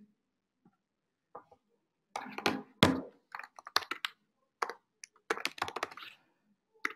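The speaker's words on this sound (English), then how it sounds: "I type in a subject" Keys tapped on a computer keyboard, entering a campaign subject line in marketing automation software: irregular bursts of close, crisp clicks in short runs with brief pauses, no talking.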